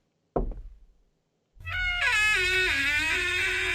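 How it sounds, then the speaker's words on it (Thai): Knocking on a door in the horror video game Mirror Mirror: a short burst of a few quick raps, then silence, followed by a loud sustained tonal game sound that takes over. "ทำไมมีเสียงเคาะประตู"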